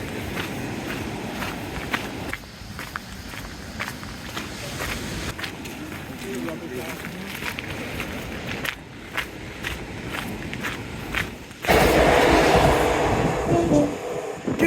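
A train runs along a seafront seawall at Holcombe, a steady rumbling pass with rail clatter that swells loudly near the end, with footsteps and some voice heard throughout.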